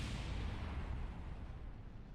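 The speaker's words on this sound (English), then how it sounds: "nice explosion" A rocket explodes in Kerbal Space Program: a heavy, rumbling blast fills the whole moment, a dense low roar that slowly fades while staying loud and continuous.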